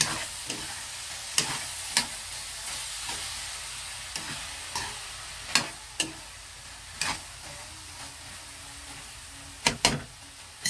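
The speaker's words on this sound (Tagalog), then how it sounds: "Haluin muna natin para pantay." Sautéed vegetables with hotdog stirred in a pan, a steady soft sizzle broken by sharp, irregular clinks of the utensil against the pan every second or so, close up with no talk.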